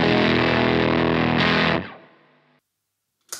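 Electric guitar through a JHS 3 Series pedal with all knobs at noon: one loud, dense chord rings out, then decays into silence before a brief final pluck.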